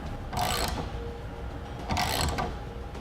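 The front of a Thule TracRac base rail on a truck bed is tightened down with two bursts of ratcheting, clicking turns. Each burst is close and crisp, separated by a short quiet pause, with no talking.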